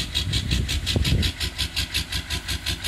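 An old Detroit diesel engine idles in -22°C cold, a loud, close, steady rumble with a pulsing hiss that beats rhythmically throughout, with a brief clunk near the start.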